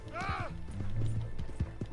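Horse in the video game Red Dead Redemption 2, a brief neigh followed by a run of close, rhythmic hoof clip-clops over a couple of seconds, with low background sound.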